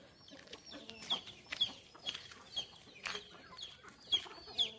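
A hen of a rare breed clucks on a farm, giving a run of short, sharp calls about every half second, close by with soft background noise and no voices.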